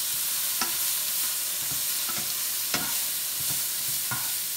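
Pre-cooked bacon and frozen vegetables fry in a preheated, lightly oiled pan with a constant close sizzle, broken by sharp spatula scrapes and clicks at irregular intervals as the food is stirred. No one speaks.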